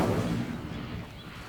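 An Incendio fire spell in Hogwarts Legacy ignites dry vines with a single deep, rumbling whoosh of flame that swells at once and then slowly fades across a short, heavy burst.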